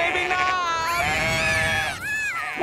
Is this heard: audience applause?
no